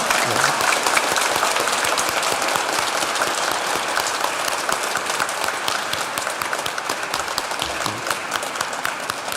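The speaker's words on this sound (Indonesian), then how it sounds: "Sebagai tanda cinta kita tepuk tangan selama setengah menit untuk Pastor Agus." A church congregation at a Sunday Mass gives their priest a long round of applause. Dense, even clapping fills the whole nine seconds without a break, close and full, with little audible talk.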